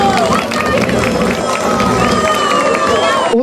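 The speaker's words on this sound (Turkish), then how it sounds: "Osmanlı askerlerine hani bir alkış gelsin." A crowd cheers, shouts and claps loudly and continuously at a live gathering, with a hubbub of voices mixed into the steady noise.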